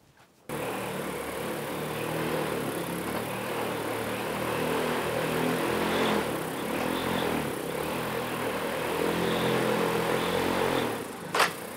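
Propellers of a heavy lift drone spin steadily at about 20% throttle, a close, continuous droning whir that starts abruptly and holds level for about eleven seconds before cutting off with a brief clatter.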